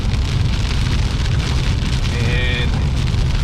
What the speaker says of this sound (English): this is some ugly, ugly dark skies and rain